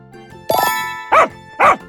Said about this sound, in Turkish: Köpek.